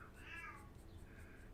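A house cat meows indoors: two drawn-out, faint meows, one near the start and a softer one toward the end, heard against a quiet, low background.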